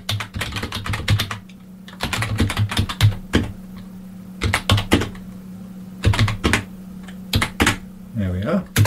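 Someone types on a computer keyboard while editing code, with quick bursts of clattering keystrokes separated by short pauses over a low steady hum.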